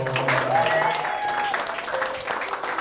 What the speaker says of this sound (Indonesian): tepuk tangan buat para volunteer kita